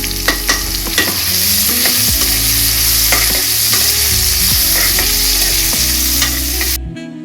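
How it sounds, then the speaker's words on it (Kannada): Onions and spices sizzle loudly in hot oil for a Kannada-style tempering, the frying hiss steady and close throughout with repeated clinks and scrapes of stirring, no voices. "ಒಗ್ಗರಣೆ"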